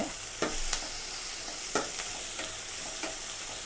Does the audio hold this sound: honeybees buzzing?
no